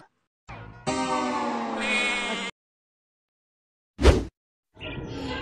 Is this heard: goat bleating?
yes